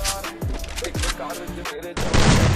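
Rapid bursts of gunfire from a newly picked-up gun in a mobile battle-royale shooter game, loud sharp shots in quick succession with a heavier blast near the end, while a player talks over it.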